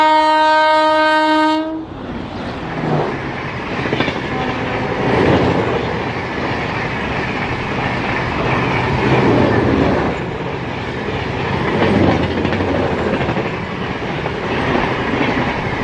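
A train horn sounds briefly, then a long roaring rush of a 25-coach train at 130 km/h on a trial run, steady clickety-clack rolling past, loud and close.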